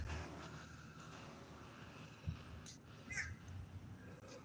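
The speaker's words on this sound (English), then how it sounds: "There goes one of my crow buddies landing up here on top of the courthouse" A crow caws from the roof of a courthouse outdoors, a short call or two rising over steady traffic and outdoor background noise, moderately distant.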